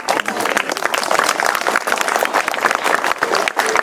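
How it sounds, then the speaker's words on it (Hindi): Crowd of schoolchildren and guests applauding a prize winner at a school award ceremony held by a state pollution control board, a dense, continuous patter of many hands. "तालियां"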